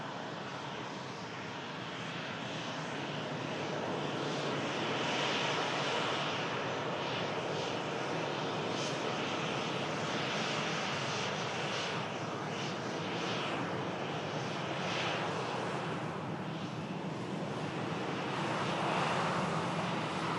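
A TUI Boeing 737 vacating the runway, a steady, broad jet engine roar held at constant loudness for the whole stretch, moderately distant, with no voices.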